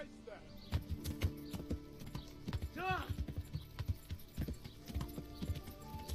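A horse in the medieval video game Kingdom Come: Deliverance trots, with a steady run of close clip-clop hoofbeats and a brief whinny partway through, heard under a person talking.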